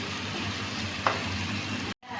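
Yogurt and spices fry in a pan for achari chicken masala, giving a steady close sizzle and hiss with one brief clink partway through before the sound cuts off abruptly near the end.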